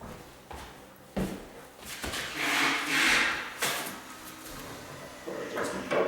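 Wooden doors on a frameless ready-to-assemble vanity cabinet being shifted and adjusted, with dull wooden knocks, bumps and rubbing scrapes close by over a hollow roomy hiss.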